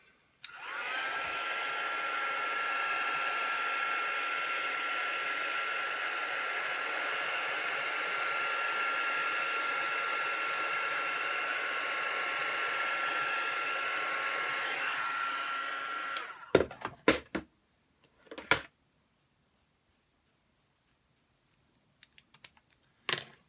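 A handheld dryer blows a steady, loud whoosh for about fifteen seconds over fresh stamp ink on a fabric apron. It cuts off abruptly, followed by a few sharp clacks and knocks of it being set down.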